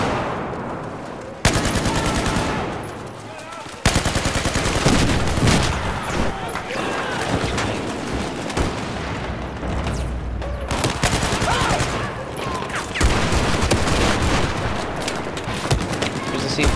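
Rapid automatic gunfire and heavy shots from the video game Battlefield 4 on Xbox One, loud and nearly continuous in dense bursts with brief drops, and a voice talking over parts of it.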